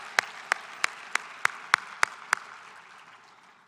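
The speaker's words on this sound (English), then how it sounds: "So let's give Dr. Andrade and USHLI and the staff a round of applause" Applause at the USHLI Latina Empowerment Breakfast for Dr. Andrade and the staff: about eight sharp, evenly spaced claps stand out over a soft wash of room noise, then fade into a quieter murmur with no talking.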